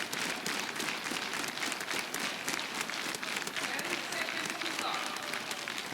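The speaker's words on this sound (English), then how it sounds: "And now the crowd building up the tension with the applause" A biathlon crowd at the Stockholm Challenge keeps up sustained, dense applause and cheering just before the race start, a steady wash of clapping with voices mixed in throughout.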